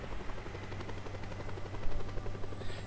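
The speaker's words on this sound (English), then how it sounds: "When in doubt, grab a helicopter with guns on it and kill him." Steady rotor chop and engine drone of a helicopter in the Just Cause 2 video game, constant and fairly close with a slight swell near the end, no voices.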